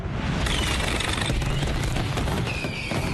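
Fireworks fire in a dense barrage during a show in Istanbul, a loud, continuous volley of booms and crackles with no pause.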